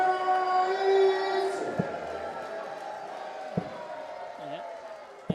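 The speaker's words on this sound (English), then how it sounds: "They're starting to roar into life now with these maximums." At the WDF 2024 World Darts Championship, the crowd cheers a maximum 180 with a sustained roar that gradually fades, punctuated by a few sharp thuds.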